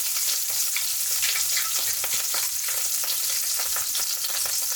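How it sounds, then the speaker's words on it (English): Honey and lemon juice hit hot oil in a salmon pan and splatter, making a loud, steady, dense sizzle with no pauses and no voices. "When you add any type of liquid to hot oil, it splatters."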